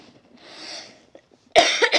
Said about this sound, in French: Donc je tousse.